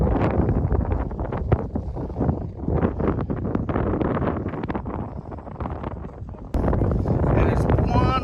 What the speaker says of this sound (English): And it's one windy, cold day.